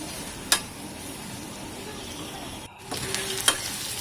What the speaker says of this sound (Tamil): நல்லா வதக்கி விட்டுக்கலாம். நல்ல கோல்டு கலர் வர்ற வரைக்கும் நல்லா வதக்கி விட்டுக்கலாம்.